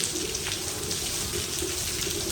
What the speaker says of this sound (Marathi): आणि पाऊस बघा किती